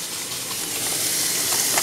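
Water runs and splashes steadily while a cooking appliance is rinsed out, a loud, close, continuous hiss with no speech.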